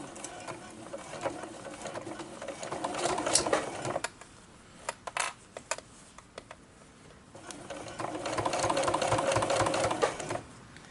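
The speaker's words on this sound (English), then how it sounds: "we just carry on sewing forward from there" A sewing machine stitches a glasses case in quiet bursts, whirring steadily for a few seconds, pausing with a few isolated clicks and taps, then running again.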